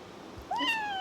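A single cat meow rises and holds clearly in a quiet room, starting about halfway through and sounding close and fairly loud, with no talking.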